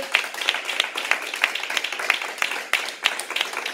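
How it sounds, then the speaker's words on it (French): A church congregation claps and cheers steadily in a brisk, dense patter that holds at even loudness throughout, with no voices standing out. "Acclame très très fort la parole de Dieu."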